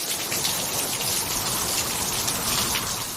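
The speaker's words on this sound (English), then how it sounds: "The wind was now howling, and the drops of rain had turned into torrents." Heavy rain pours in a steady, dense hiss during a growing storm, loud and unbroken throughout with no distinct gusts standing out.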